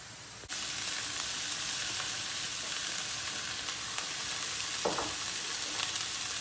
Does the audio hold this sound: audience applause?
no